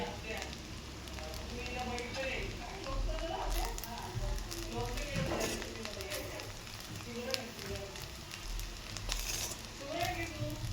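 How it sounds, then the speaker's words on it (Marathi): Butter sizzles on a hot tawa with rice for tawa pulao, a steady close crackle and hiss that runs throughout, while a voice talks over it. "मस्त बटर घालते आता छान."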